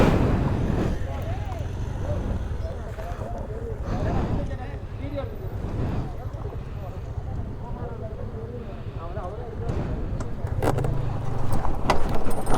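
A Yamaha MT-15 motorcycle sets off on an off-road trail in Munnar, its engine rumbling low and continuous beneath excited voices calling out to each other.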